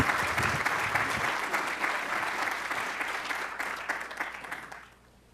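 An audience claps steadily through a lecture hall to welcome an economics professor to the stage, the dense applause holding strong and then thinning out and fading at the end.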